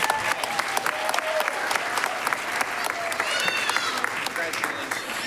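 Audience at a school superintendent awards ceremony applauds steadily, a dense crowd clapping continuously through the whole stretch with no pauses.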